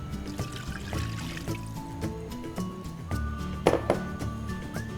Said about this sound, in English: In a large pan, you can pour in the vegetable stock.